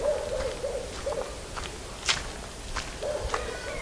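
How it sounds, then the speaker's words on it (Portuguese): Hooting bird calls in a national forest park, a few separate low calls repeating at intervals with faint rustling and footsteps nearby. "Aqui a gente ouve bastante grito das aves"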